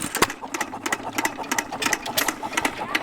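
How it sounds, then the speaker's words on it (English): A 1917 Associated 1 3/4 horsepower open antique engine runs at a fair, chuffing and clicking in a quick, uneven rhythm of sharp mechanical beats, fairly close. "This guy is an Associated 1 3/4 horsepower. That's from 1917."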